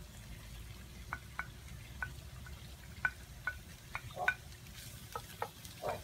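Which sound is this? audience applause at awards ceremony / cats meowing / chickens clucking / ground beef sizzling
ground beef sizzling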